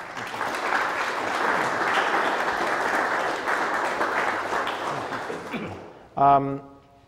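Audience applause for a mayor at an oral history event, broad steady clapping sustained for about six seconds before fading, followed by a brief burst of a voice.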